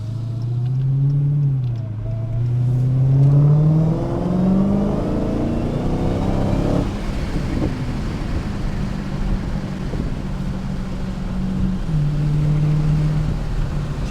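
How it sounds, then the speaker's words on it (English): A 2019 Dodge Challenger Hellcat's engine drones and rises as it accelerates, heard from inside the car under steady wind noise, with the exhaust note climbing in pitch through gear changes before leveling off into a sustained hum. "trying to get you a little bit of that exhaust note"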